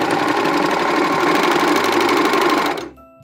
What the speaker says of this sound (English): I'm going to go ahead and serge both ends of the elastic together